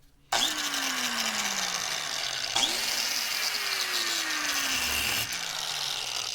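Angle grinder cutting into the steel of a log splitter: a loud, steady high-pitched whine with a harsh grinding edge. The motor spins up at the start, dips briefly under load partway through, and its pitch slowly falls as it bites.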